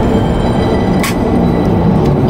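A metro train at a subway station gives a continuous loud low rumble and rolling roar, with brief metallic squeals and clicks over the steady drone.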